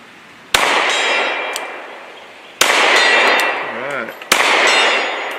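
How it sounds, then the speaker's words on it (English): Three sharp pistol shots from a Glock 43, each followed by a ringing metallic clang of a steel gong that decays over a second or two, spaced irregularly with brief quiet between. "Let's put another one on the gong if we can."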